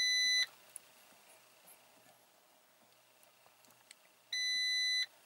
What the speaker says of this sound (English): And the beeping you hear is coming from the actual car itself because of the diagnostics that's being run.